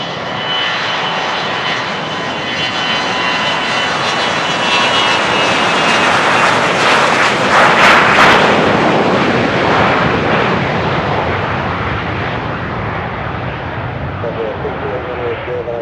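Private jet engines roaring at Van Nuys Airport during takeoff or landing, a loud sustained broadband rumble that swells to a peak midway and slowly fades, with tower radio chatter faintly underneath.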